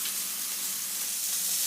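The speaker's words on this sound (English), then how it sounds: "It's really starting to spit and sizzle a bit." Beef burgers sizzle and spit in an oiled pan over high heat, a close, steady hiss of frying with no voices.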